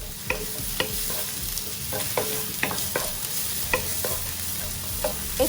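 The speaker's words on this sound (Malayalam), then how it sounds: "ഞാനിപ്പോൾ ആദ്യം തന്നെ ജിഞ്ചർ, ഗാർലിക്, ചെറിയ ഉള്ളി ഇവ വഴറ്റിയെടുക്കുവാണ്" Ginger, garlic and small shallots sauté in hot oil with a steady sizzle, while a spoon scrapes and clacks against the pan in irregular strokes, close and moderately loud, with no voices.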